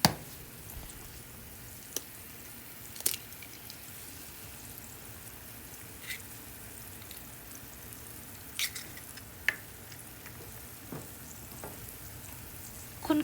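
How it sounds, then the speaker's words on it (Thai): Eggs and rice noodles frying in a pan and being stirred, a soft steady sizzle with occasional quiet scrapes and clicks of the utensil. "คนๆให้ ไข่มันแตก ลูก"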